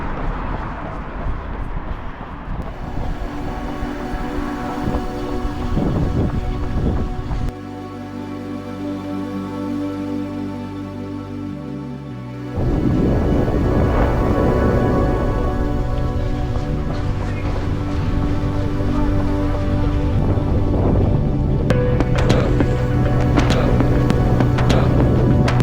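Wind buffeting a microphone on the seafront at Ramsgate, a loud continuous roar that dips briefly and then returns stronger, with a runner's voice faintly under it.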